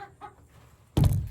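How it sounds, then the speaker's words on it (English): A broody hen gives soft, low clucks followed by a sudden louder burst of rustling or flapping, close by with no talking. "Bringle, the broody hen."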